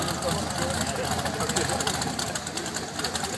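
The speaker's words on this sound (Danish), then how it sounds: "Det er en ordentlig Merlin motor her. V8." A Merlin V8 engine in a drag-racing machine runs at the DHB 2013 quarter-mile event. It gives a steady, throbbing mechanical drone close by that holds for the full span, with a voice partly audible over it.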